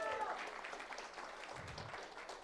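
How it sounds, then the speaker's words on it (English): An audience at a business networking chapter meeting in Bangalore applauds Dr. Krishna, a faint, even patter of clapping sustained for a couple of seconds, with voices mixed in. "So let's give Dr. Krishna a huge round of applause."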